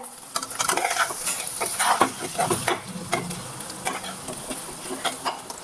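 Chopped boiled potato sautéed with misal masala over a medium flame in a pan, steady sizzling broken by repeated scraping stirs, close and fairly loud with no voices.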